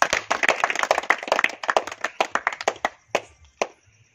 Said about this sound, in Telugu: ఈ విధంగా అందరూ ఒకసారి చప్పట్లు కొట్టాలి.